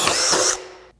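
A Metabo HPT 18V MultiVolt hammer drill (DV18DEX) boring a hole with a 3/4-inch bit, a brief loud whirring burst that cuts off and winds down as it stops at the end of the hole.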